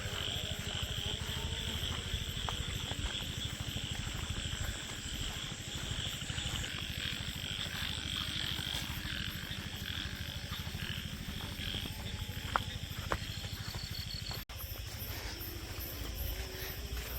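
Frogs croaking steadily through the night in a Bangladeshi village, a dense continuous chorus with insects trilling alongside, no talk over it.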